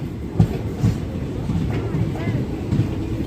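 Guntur–Rayagada Express train pulling out of Mangalagiri station, a low steady rumble with a few soft rhythmic thumps of wheels on rail joints, heard from on board.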